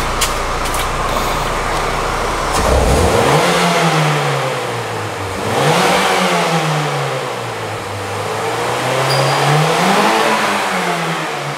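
A car engine running smoothly again after a new fuel pump was fitted, revved up and down in three or four steady sweeps, loud and close, with no voices over it.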